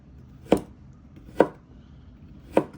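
Three crisp knife chops on a cutting board while slicing vegetables into thumbnail-sized pieces for an orange chicken stir-fry, evenly spaced, close and distinct against a quiet room.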